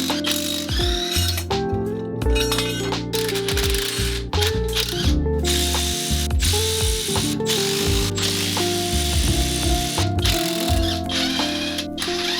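Ratchet loosening cylinder head bolts on an Audi A3 1.9 TDI PD engine, a steady run of close, loud metallic clicking in repeated bursts with brief pauses, no talking.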